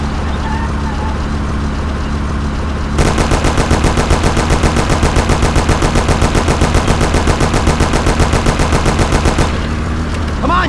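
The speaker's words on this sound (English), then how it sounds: "Take my Thompson. You and Sam shoot them." A Thompson submachine gun in the Mafia game fires in a long sustained burst of rapid, loud shots lasting about six seconds. It cuts in abruptly over a steady car engine drone and stops just as suddenly.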